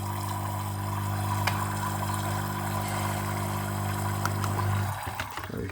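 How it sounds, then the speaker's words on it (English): Water pours and spatters from the partly clogged holes of an espresso machine group head, a steady rushing stream over a constant low machine hum, cutting off near the end. "you can see how bad is pouring all the water from the holes"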